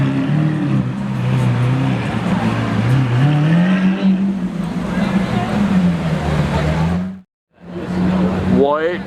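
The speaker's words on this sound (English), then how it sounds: "Novitec Aventador S." A Novitec-tuned Lamborghini Aventador S drives past with a loud, rising and falling engine note and a brief drop-out near the end, and voices talk over it at a car event.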